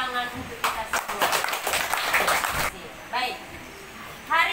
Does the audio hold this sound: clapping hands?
yes